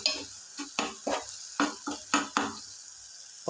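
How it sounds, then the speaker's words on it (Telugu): Chili powder frying in oil in a pan while being stirred, heard as a run of distinct scraping stir strokes over a soft sizzle, close up and without talk. "ఇదిగోండి ఆయిల్లో వేగితే కారం మరీ ఎక్కువగా వేయించొద్దు, కలర్ మారిపోద్ది"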